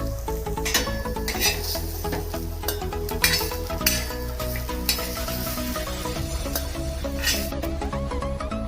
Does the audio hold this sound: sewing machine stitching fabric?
no